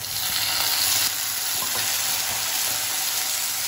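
Tomatoes hitting a pan of well-roasted onion for an anchovy fish curry, with a steady loud sizzle and frying crackle throughout, plus some stirring scrapes.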